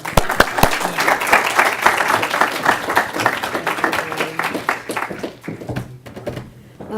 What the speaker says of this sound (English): So if we can have a round of applause for Beth.